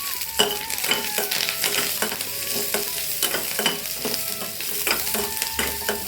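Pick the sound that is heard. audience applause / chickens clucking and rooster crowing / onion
onion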